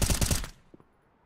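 Gunfire from an esports shooter match, with a short, loud burst of rapid automatic shots that cuts off quickly, followed by a faint thud or two.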